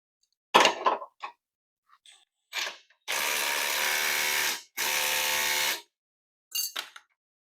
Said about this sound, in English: I'm gonna go ahead and tighten this wheel down.